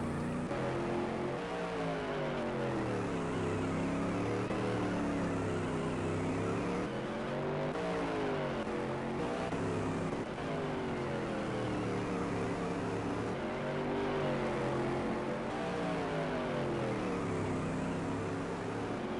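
Supermodified race cars lap Orange County Speedway in a racing sim, engines droning steadily and loudly throughout with rising and falling pitch sweeps as cars pass and accelerate in a continuous pack.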